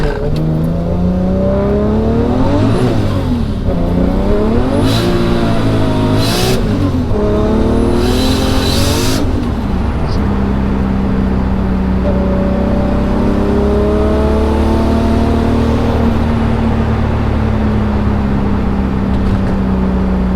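A turbocharged car engine on 18 pounds of boost revs repeatedly in rising and falling sweeps, then climbs and holds at the rev limiter with a loud, steady droning whine.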